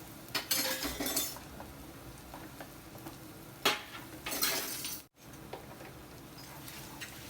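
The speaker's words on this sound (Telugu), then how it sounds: "ఇందులో ఒక స్పూన్ అల్లం వెల్లుల్లిపాయ పేస్ట్ వేద్దాము వేసి బాగా కలుపుకొని" Ginger garlic paste and onions sizzle in hot oil while a spoon stirs and scrapes the pan, giving steady frying hiss with clinks and two louder bursts, then a short gap of near silence before the sizzling resumes.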